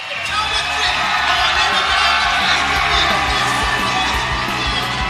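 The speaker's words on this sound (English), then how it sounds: "If you can hear this crowd, they are excited to watch the hometown kid." Excited arena crowd at a Fury FC MMA event cheering for a hometown fighter, a loud sustained roar with shouts and whoops that builds quickly and holds steady throughout.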